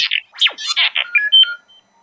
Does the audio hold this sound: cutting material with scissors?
no